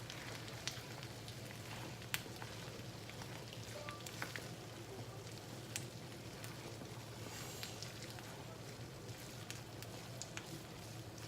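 Kapampangan biringhi rice is stirred in a pan while it cooks, giving a faint, steady sizzle broken by occasional scraping clicks of the utensil against the pan.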